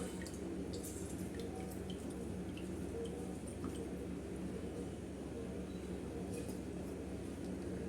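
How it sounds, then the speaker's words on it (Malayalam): Lemon juice dripping into a glass of water for a natural summer drink, a faint, steady trickle over a constant low background hiss. "നമുക്ക് ഈ വെള്ളത്തിൽ നാരങ്ങ നീര് ചേർക്കാം"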